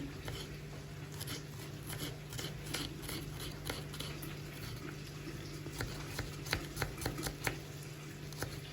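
Garlic cloves being finely chopped with a knife on a board, quick irregular taps that speed into bursts, quiet and close over a low steady hum.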